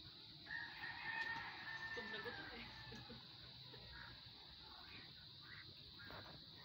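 Chickens on a farm with ducks cluck and a rooster crows, faint and intermittent against a background hum, with brief talking mixed in.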